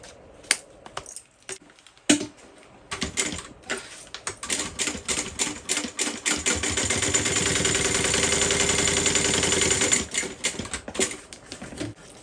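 A sewing machine stitches a row across the top of a handmade Alicia bag. It starts with a few short separate bursts, then settles into a steady, close mechanical whir that runs for several seconds before stopping.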